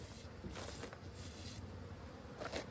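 A soft, continuous buzzing of bees at a beehive feeder drones nearby, swelling and fading faintly as insects move around.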